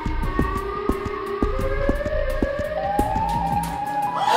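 A Siren Head siren calls with a loud wailing tone that climbs steadily in pitch over a rapid, regular pulsing beat, with no voices.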